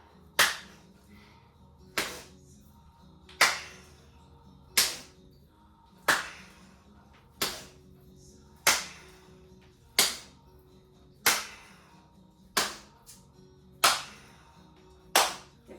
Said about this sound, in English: We're gonna take our arms and we're going to clap them in front